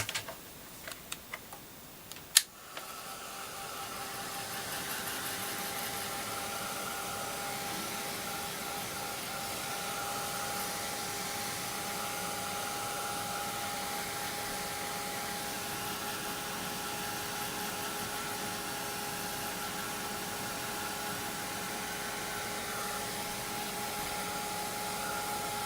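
Hair dryer blowing on a painted Das clay plaque, a brief click and thump, then a steady whirring drone with a faint tone running to the end.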